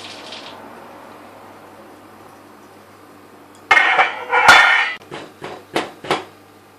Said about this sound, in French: now we're going to pass it all through a sieve